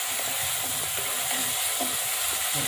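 Ginger garlic paste sautés in hot oil for a vegetable basmati pulao, a steady, close sizzling hiss with small crackles and faint stirring scrapes throughout.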